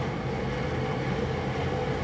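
Aquarium chillers cooling display tanks make a steady, loud, broadband mechanical drone that hums without a break and fills the space.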